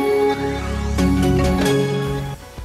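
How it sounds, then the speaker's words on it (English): The Intel Inside audio logo, a short bright jingle of bell-like chimed notes over a sustained synth tone, about three seconds long and heard clearly on its own. "today you can't think of Intel without hearing the iconic Intel Inside Bong"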